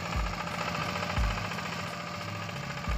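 A Yanmar YZC-L hand tractor, a Chinese-made tiller for working dry soil, runs with a steady loud mechanical clatter and regular low thumps about once a second, with no talking.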